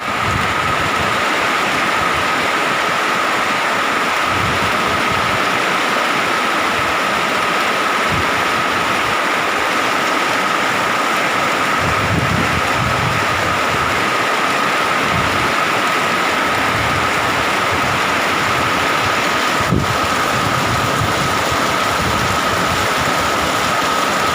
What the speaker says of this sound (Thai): นี่ฝนก็เริ่ม เบาลงแล้วนะคะเนี่ย